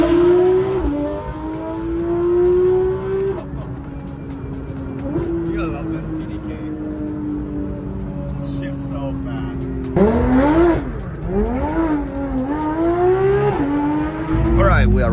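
A Porsche 911 engine cold-starts and idles high, then is revved repeatedly; the loud, close exhaust note rises and falls in several sharp blips toward the end.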